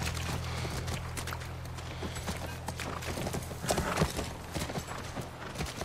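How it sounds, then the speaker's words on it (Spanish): Horse hooves clip-clop in the video game The Last of Us near a ranch. The steps are soft and fairly steady over a low constant hum, with a slightly louder cluster near the end. "Es nuestro caballo. Debe estar ahí."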